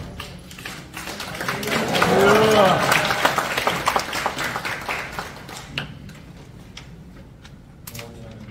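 A church congregation applauds as a pastor comes forward at a prayer breakfast, with a burst of clapping that swells and then thins into scattered claps, while voices talk and call out over it.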